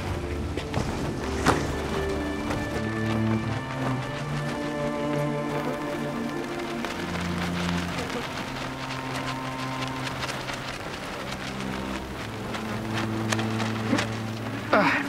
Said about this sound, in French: Ça y est, il pleut.